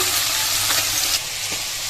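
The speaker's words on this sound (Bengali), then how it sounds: "এই দেখো এখানে হচ্ছে মাছগুলো ভাজতে দিয়ে দিলাম" Small fish fry in a pan with a loud, close, crackling sizzle of oil that holds steady for about two seconds and eases slightly near the end.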